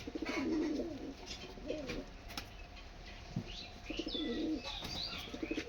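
Pet pigeons coo in low rolling bursts close by, with light chirps and a brief flutter of wings in a quiet loft.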